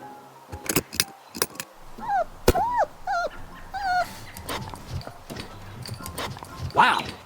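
A small dog in a video game chases after a thrown ball, with short yips and whimpers and quick footfall-like taps scattered through, under someone talking excitedly over it.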